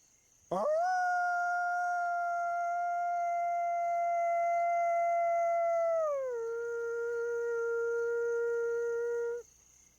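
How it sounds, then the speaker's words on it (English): A single wolf howl rises sharply and holds a long, steady, clear tone in the wild, then drops lower partway through before cutting off; it is loud and close, alone with no talk. "actually hearing a wolf howl, that is a really big thrill for most people"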